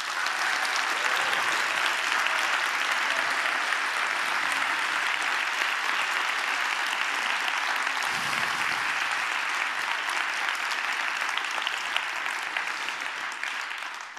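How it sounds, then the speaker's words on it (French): A live audience breaks into sustained applause, dense steady clapping holding at full strength for the whole stretch with no talk over it, tapering only slightly at the very end. "je vous invite d'emblée à les applaudir allègrement"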